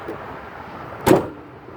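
A 2019 Dodge Caravan GT wheelchair van's side door is pushed shut by hand, one solid thud near the end of a quiet moment.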